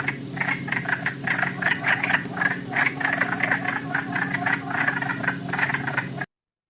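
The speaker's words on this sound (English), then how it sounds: "So it sounds like a whole bunch of little ducks dabbling around together, sort of. That's the wood frog." A chorus of wood frogs gives harsh, duck-like quacking calls, many overlapping in a dense, steady, rhythmic clatter that carries on without a break and with no voices.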